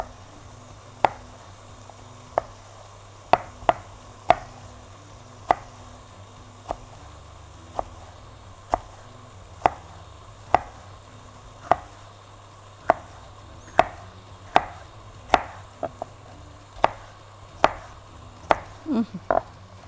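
A knife slicing vegetables thinly on a board, about twenty-five crisp, evenly spaced taps at a steady rhythm, close and clear, with a quick cluster of cuts near the end over a low background hum.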